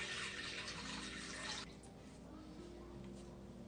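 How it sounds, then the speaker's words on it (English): Water streams steadily into a container, 650 grams poured for a sourdough loaf, a soft hiss that stops abruptly partway through and gives way to quiet room tone. "First, I'm gonna do 650 grams of water."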